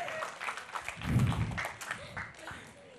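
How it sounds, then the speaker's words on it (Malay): Audience applause at the close of an episode of Idola Kecil Season 3, a children's singing competition show; a brief, fairly subdued burst of clapping heard alongside a voice talking over it. "Tepukan untuk mereka sekali lagi."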